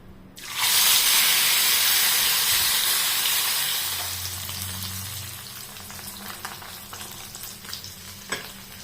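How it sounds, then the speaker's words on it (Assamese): Loud, steady sizzle of fish frying in hot oil in a kadai with whole cumin and dried chillies, a broad hiss that starts abruptly and gradually settles, with occasional pops and stirring sounds. "এতিয়া মই মাছখিনি ফ্ৰাই কৰো"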